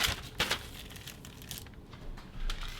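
An onigiri's plastic wrapper is folded and twisted around the rice ball, giving crisp crinkling bursts near the start and then softer rustling throughout.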